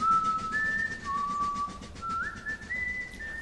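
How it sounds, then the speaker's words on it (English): A person whistles a short, clear melody of sustained tones that step up and down, alone against a quiet background. "began whistling a small melody"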